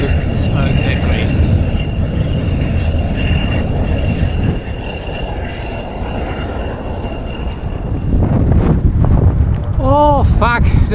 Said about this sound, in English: Oh fuck, this plane is back. It's spraying right in front of us.